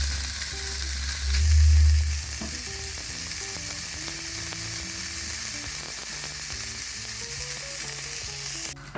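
Chicken fried rice (chaufa de pollo) sears in a pan over medium heat, giving a steady, close sizzle with clinks of stirring throughout and a short low thump near the start.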